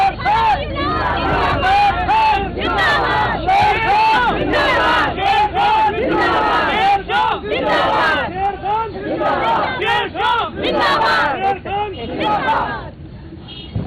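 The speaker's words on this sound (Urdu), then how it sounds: "یہ بس میں شیر شاہ کو لے کے جائے تھے اس لیے یہ نعرے لگا رہے ہیں" Crowd of protesters in Pakistan chanting slogans outside a press conference after two arrests, loud and continuous, with rhythmic massed shouting filling the scene until it suddenly cuts off near the end.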